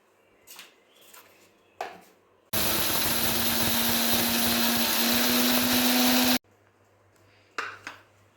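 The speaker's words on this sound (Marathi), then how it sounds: "मिक्सरच्या भांड्यामध्ये अशी थोडी थोडी डाळ घालून मी ती दळून घेणार आहे" A mixer grinder roars loudly for about four seconds grinding split moth beans, a steady high-pitched whine with grinding texture, between quieter clinks and handling noises before and after.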